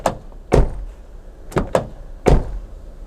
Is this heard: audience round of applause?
no